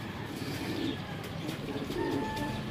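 Pigeons coo softly in a loft, faint low throaty calls repeating under steady background noise.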